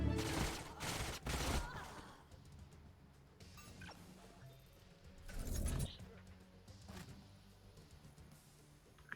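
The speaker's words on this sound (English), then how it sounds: "Let's just keep shooting." Short bursts of video-game gunfire in Age of Wonders Planetfall, a few loud volleys separated by quieter stretches with faint battle noise.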